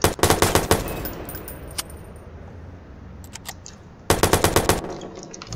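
Rapid automatic gunfire in the video game Watch Dogs comes in two loud, sharp bursts of quick shots, separated by a quieter stretch with a few scattered shots.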